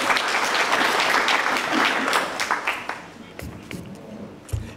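Audience applause at a university international conference session, dense and steady clapping that fades out partway through, with a few scattered claps and faint voices near the end.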